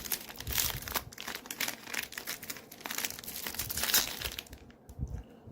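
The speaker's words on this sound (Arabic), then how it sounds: "قدامنا 3 اكياس يا شباب، قدامنا 3 اكياس. نفتح ونقول بسم الله على بركه الله" Plastic bags inside a biscuit tin being opened, with continuous close crinkling and crumpling plus brief tearing bursts, loud and steady throughout with no talk.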